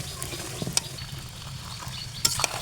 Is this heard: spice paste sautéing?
yes